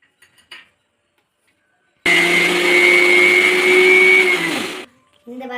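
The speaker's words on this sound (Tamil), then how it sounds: "இந்த வரத்துக்கு நல்லா நைஸாக அரைச்சி எடுத்துக்கலாம்" A mixer grinder runs for about three seconds, grinding idli podi spice powder with salt and asafoetida finely, a loud steady whirring motor that starts abruptly and then cuts off, with brief kitchen sounds before and after.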